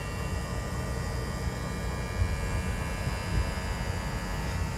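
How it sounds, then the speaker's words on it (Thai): Steady electric hum and broadband whir from the air conditioning compressor under the open front hood of an MG IM6 electric car, continuous and fairly loud with no talk. "ส่วนถ้าอยากได้ยินเสียงคอมแอร์ดังขึ้นมาหน่อยเนี่ยต้องเปิดกระโปรงหน้าขึ้นมานะครับ แล้วก็บริเวณนี้จะได้ยินเสียงนะครับที่ได้ยินอยู่ตอนนี้"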